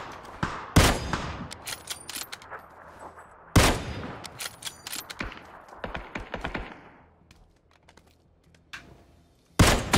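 Sniper rifle shots in PUBG on the Erangel map, three loud, sharp cracks spaced several seconds apart, each trailing into echoing decay, with quieter clatter and thuds between them.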